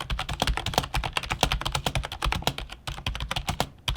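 Rapid, steady typing on a gaming keyboard, keystrokes clacking close and loud in a continuous flurry with no voices.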